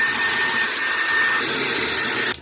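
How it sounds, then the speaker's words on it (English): A Dyson Airwrap hair dryer blows steadily at close range. It gives a constant, loud whooshing hiss with a faint high whine and cuts off sharply at the end, with no voices. "It is the Dyson Airwrap hairdryer set thing."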